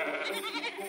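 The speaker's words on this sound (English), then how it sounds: "A sheep, that's right." A single sheep gives a short, wavering bleat, close and fairly soft, heard alone.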